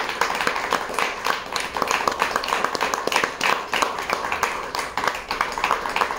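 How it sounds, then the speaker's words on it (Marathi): Crew and extras on a Marathi TV serial set, staged as an award ceremony, clap together in a continuous dense patter. A voice talks over the applause. "सगळे टाळ्या वाजवत राहा"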